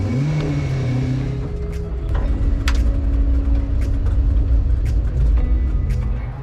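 A classic Marcos race car at Snetterton circuit drives round the back of the track toward the paddock, its engine revving up and down through gear changes, close and loud with a rumbling exhaust.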